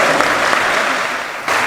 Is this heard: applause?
yes